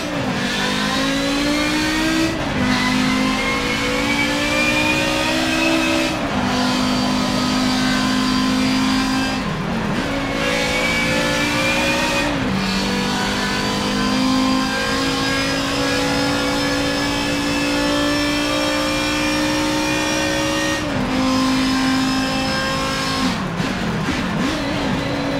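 Race car engine in Forza Motorsport 7 revving hard and climbing through the gears after a downshift, a loud sustained whine with several sharp breaks as gears change, close and alone with no talking.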